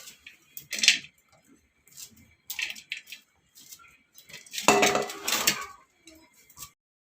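Banana flower being finely chopped with a knife on a board gives scattered close taps and cuts, a brief louder burst of chopping near the end, with quiet gaps between.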